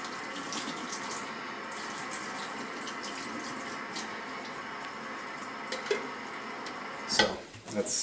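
Running tap water as a juicing bottle and cup are rinsed, a steady splashing stream with small clinks and a louder burst of water near the end.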